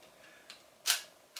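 A film camera shutter on a Voigtländer from the GDR fires in a quiet room, giving a soft tick, a louder sharp click and a final tick. The sounds are close and brief, with no talking.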